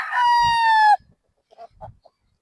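A single loud gamecock crow from a 3-year-old Boston Sweater rooster rings out up close, long and harmonic, followed by a few faint clucks and soft rustling.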